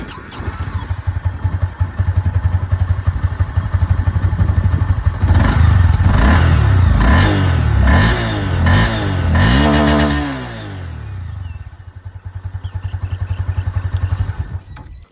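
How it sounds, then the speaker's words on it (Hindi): A Honda CB300F motorcycle idles with a steady thumping beat, then is revved hard several times in quick succession, the engine rising and falling before settling back to a close, loud idle. "अब मैं आप लोगों को यहाँ पर जो CB300F की आवाज़"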